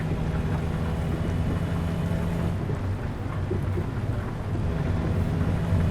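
Rain falls steadily with low thunder-like rumbling in American Truck Simulator while a truck drives offroad on slippery ground. The wash is dense and continuous at moderate loudness.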